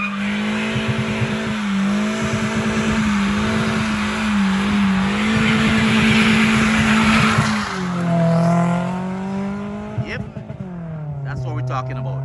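A Toyota Axio with a gearbox revs hard at a Jamaican drag race, its engine note climbing and dropping through loud, close shifts, with tire noise and voices talking over it.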